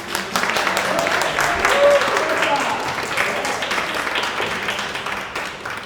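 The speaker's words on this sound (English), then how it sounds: "So let's give applause to Caridad De La Luz." A gallery talk audience applauds spoken word artist Caridad De La Luz, a moderate, continuous patter of clapping hands with a few voices mixed in, staying fairly even before slowly thinning.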